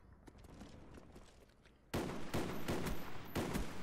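Rapid gunfire from an M14 rifle in a first-person shooter game's gun game mode bursts in suddenly after quiet background noise, loud close shots firing in quick successive volleys.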